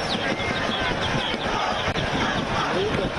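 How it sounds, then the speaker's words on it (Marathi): Huge crowd of cricket fans packing Marine Drive in Mumbai, a dense roaring hubbub of cheers and shouts filling the space, close and loud with a voice talking over it. "सध्या मरीन ड्राईव्हचा संपूर्ण परिसर हा गर्दीने फुलून गेलेला आहे"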